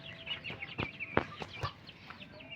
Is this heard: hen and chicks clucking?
yes